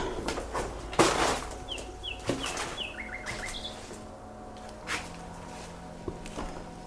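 Birds chirp faintly outside a hotel in a horror video game, scattered short tweets over quiet ambience broken by a few soft knocks and thuds.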